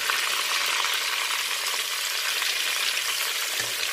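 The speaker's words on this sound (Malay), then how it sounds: "Kalau goreng apa, hati ayam ni memang dia meletup-letup macam orang perang." Chicken liver frying in a wok gives a loud, steady, dense sizzle with fine crackling spread evenly across the whole stretch, no voices over it.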